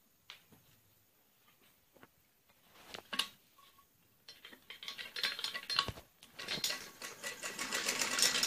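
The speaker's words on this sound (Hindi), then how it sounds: "ऐसे चारों पीस के ऐसे चारों तरफ को सिलाई लगानी होती है बड़ा नंबर करके" A sewing machine stitches around the edges of four cut trouser pieces, a rapid mechanical whirring that starts in soft bursts and builds into a louder, continuous run near the end.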